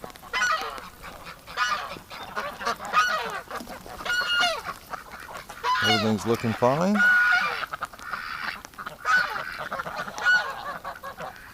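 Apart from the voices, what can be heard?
ducks calling in winter pen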